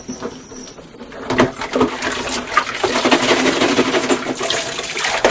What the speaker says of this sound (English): So first we wash the feeders in soapy water with a little bleach.